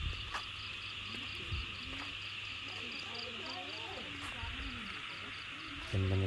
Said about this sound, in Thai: กบเสียงนี้